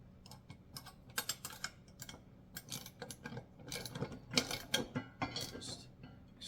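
Bolt being tightened on a VEVOR steel wheel dolly, rapid clicking ratchet strokes in uneven bursts, close up and fairly quiet with no talking.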